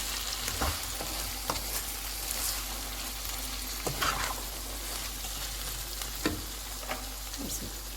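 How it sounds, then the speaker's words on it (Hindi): Okra being stirred in a pan during slow cooking, with steady faint sizzling and a few soft spoon scrapes and clicks spread through, no talking. "हम एक दफ़ा भिंडी को इस तरह मिक्स करेंगे।"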